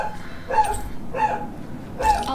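A pet dog barks in the background of a home gaming stream, giving three short barks spaced evenly apart, moderately loud behind a steady room hum.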